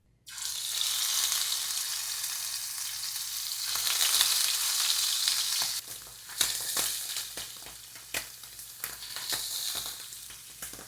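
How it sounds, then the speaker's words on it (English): Loud hiss as scallops hit a hot pan, settling into steady sizzling with crackles and a few clinks of a utensil. "Now we're ready to lay down the scallops. And you should hear it sizzle"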